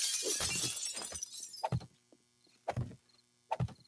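Glass shatters repeatedly in the zombie survival game 7 Days to Die, a string of bright crashing breaks with tinkling debris, several separate impacts spaced across a few seconds, fairly close.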